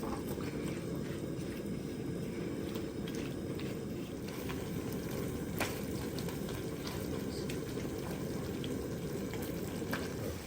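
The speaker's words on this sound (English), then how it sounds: "we have a slow simmer going on" Creamy shrimp pasta sauce with spinach bubbles at a slow simmer in a pan, giving a steady, even hiss of soft bubbling that holds at one level throughout with no voices.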